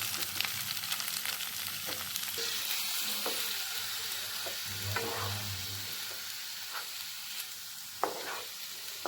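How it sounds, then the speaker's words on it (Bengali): Mixed vegetables poured into hot, well-fried masala in a pan for a restaurant-style mixed veg dish, giving a loud continuous sizzle with scattered crackles and stirring clatters throughout. "মশলাটা খুব ভালো মতন কষে গিয়েছে, এখন আমি এর মধ্যে সবজিগুলোকে সব ঢেলে দিচ্ছি।"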